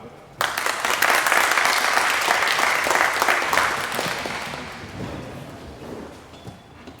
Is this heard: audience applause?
yes